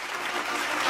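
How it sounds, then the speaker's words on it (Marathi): An audience claps loudly and continuously at an awards ceremony as presenters come up to hand out a prize, a dense, close burst of applause with no pause. "जोरदार टाळ्या तिघींसाठी आपण वाजूया आणि त्यांच्या हस्ते पुरस्कार प्रदान करूया"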